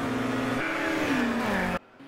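1985 touring car racing down the front straight at Wigram, a loud, close engine howl with pitch shifting through the revs before cutting off abruptly into a quieter distant drone.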